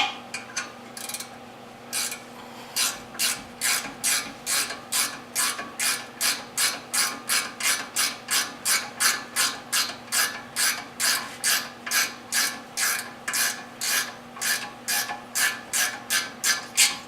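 A ratchet snugs bolts on Ford Mustang brakes with rapid, evenly spaced clicking strokes, loud and close and continuing steadily, with no talking.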